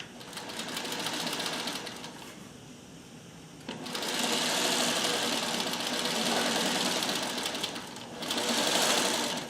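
A Singer 301A sewing machine stitches a shirt, with close, fast mechanical chatter in two main runs, separated by a brief slower stretch, with a short burst at the end.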